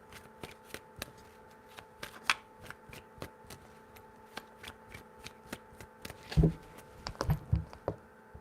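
Tarot cards riffled and shuffled by hand in three rounds, a quick run of crisp flutters and taps through the clip, with a few louder slaps near the end.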